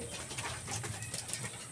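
A white-ringed homing pigeon coos softly a few times after flying home, a low murmuring call close by with light background noise and no talk.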